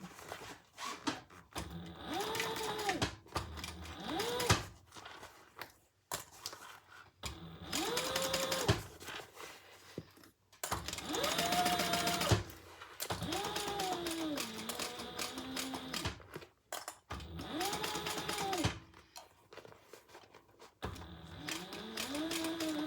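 Sewing machine stitches a fabric bag in several short runs of whirring motor sound, separated by pauses, close and fairly quiet.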